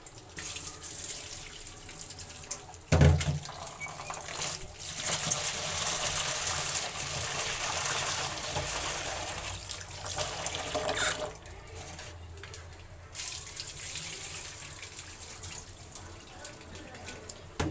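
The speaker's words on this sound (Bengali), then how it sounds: "ডালগুলি এখন ভালো করে আমি ধুয়ে নেব।" Lentils washed under a running kitchen tap, a steady close hiss of flowing water with brief knocks and splashes as the grains are stirred, a sharp bump near the start and short pauses in the flow.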